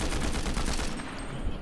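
Sniper fire in Fortnite during a trios match, a dense burst of loud gunfire crackling for about a second before fading into quieter game ambience, with no talk over it.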